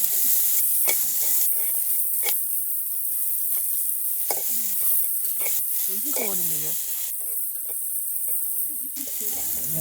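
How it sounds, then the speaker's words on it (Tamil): Onions, green chillies, garlic and mushrooms sauté in oil during traditional village-style cooking, giving a constant loud sizzle with scraping stirs, intermittent bursts of hiss and a brief voice in the middle. "இனி வெங்காயம் பச்சை மிளகாய் போட்டு வதக்குவோம்."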